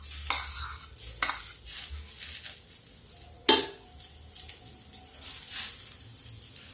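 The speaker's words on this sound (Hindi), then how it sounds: "इसको मैं धीमी आंच पे थोड़ा थोड़ा फ्राई करती हूँ।" Nuts and sama rice frying over a low flame and stirred in a pan, with soft sizzling under several sharp scrapes and clinks of the spoon against metal, close and moderately loud, no talking.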